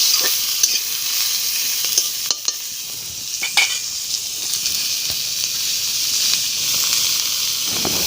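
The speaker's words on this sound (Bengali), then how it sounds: "এবার আমি সরিষার তেলের মধ্যে দিয়ে দিচ্ছি পেঁয়াজ কুচি।" Two large chopped onions fry in mustard oil with a steady, close sizzle, broken by scraping stirs of the spoon against the pan.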